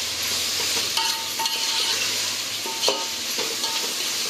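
A spoon stirs chicken pasta gravy with garam masala in a hot pan, steady sizzling and frying under occasional scraping strokes of the spoon, close up and with no talking.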